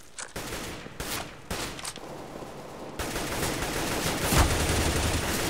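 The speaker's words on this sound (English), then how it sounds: "I hear consecutive gunfire" Counter-Strike: Global Offensive casual deathmatch gunfire: a few isolated shots at first, then continuous rapid automatic fire at mid distance, steady and dense through the second half.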